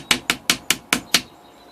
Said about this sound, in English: Now I'm going to go over it with the jeweler's hammer once again.